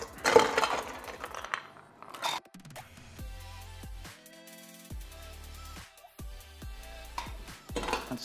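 Ice clinks and rattles against a glass as a clementine gimlet cocktail is stirred, a soft, close tinkling that runs under faint background music.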